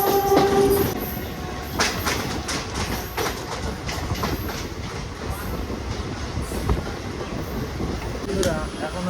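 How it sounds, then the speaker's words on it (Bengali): A passenger train on the puja special service between Digha, Bardhaman, Bolpur and Rampurhat in India, running past Farakka station, heard from on board as a loud, steady rumble and rhythmic wheel clatter with a brief tonal note at the start. "আমাদের ট্রেন এখন ক্রস করলো ফারাক্কা স্টেশন"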